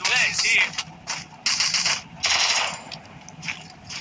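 Gunfire in the Free Fire mobile battle game: bursts of rapid automatic shots and single cracks repeating over several seconds, with faint background voices under the game sounds.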